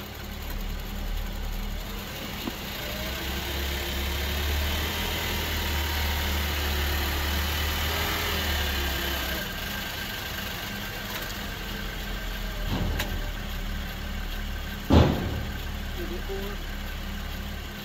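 A Chevrolet Traverse engine idles steadily with a low, constant hum while the vehicle is driven up onto ramps for an oil change, with a couple of brief knocks near the end.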